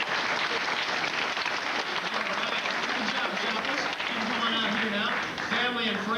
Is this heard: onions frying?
no